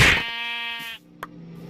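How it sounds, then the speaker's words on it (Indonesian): A goat bleats in the Minecraft video game, a single drawn-out nasal cry of about a second, close and clear, followed by a brief faint blip. "Ada kambing"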